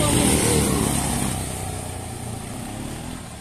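A motorcycle engine drones steadily as the bike is ridden, with heavy wind rush over it. The engine starts a little louder and eases off slightly, and a voice is faintly audible under the noise.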